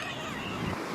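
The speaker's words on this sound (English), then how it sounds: "The waves are still as crazy as ever." Rough ocean waves surge against the coast at Porto Covo, a dense, continuous roar of surf with wind buffeting the microphone, loud and close.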